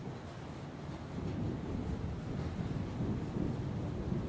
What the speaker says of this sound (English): We got thunder.